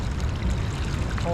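Water pours steadily out of a hole in a homemade kayak live well, a close, continuous splashing gush that fills the moment, with a voice briefly starting at the very end.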